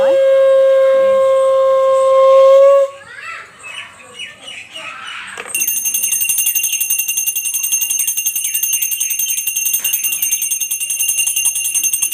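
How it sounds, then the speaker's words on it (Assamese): During a home Vishwakarma puja, a conch shell blown in a household shrine sounds one loud, steady, sustained note for about three seconds. Softer clatter follows, then a high, continuous ringing tone. "মায়ে মন্দিৰত শংখ ধুনীয়াকৈ বজাইছে।"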